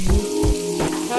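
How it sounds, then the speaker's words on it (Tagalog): Vegetables for pancit fry in a pan with a close, crackling sizzle, punctuated by a few low thumps and scrapes of stirring. "na-fry natin yung gulay"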